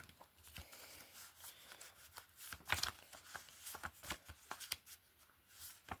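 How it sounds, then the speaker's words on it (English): Homemade trading card game cards are shuffled by hand close up, irregular crisp riffles and slaps in quick bursts, with no one talking. "Just going to shuffle it around a bit."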